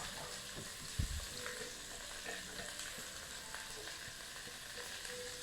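Onions and Coli pieces being stirred in a hot pan for soup, a low continuous sizzle and frying hiss with a single soft knock of the spoon early on, no voices.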